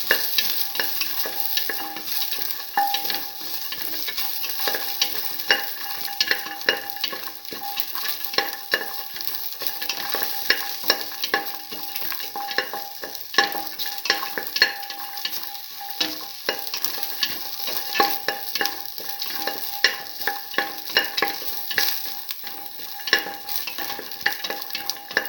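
A garlic and mung bean mixture is stirred in a frying pan, giving a steady sizzle with constant scraping and clicking from the utensil, unbroken and fairly close for the whole stretch.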